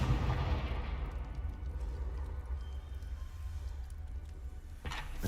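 A Confringo fire spell explodes in Hogwarts Legacy with a loud burst at the start that rumbles and decays into a low roar, ending in a short sharp crack near the end.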